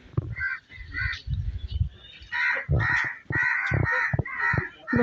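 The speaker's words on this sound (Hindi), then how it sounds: "कौवे बोल रहे हैं" Several crows caw in a village, harsh repeated calls overlapping from near and slightly farther away, with a low murmur of background activity in the gaps.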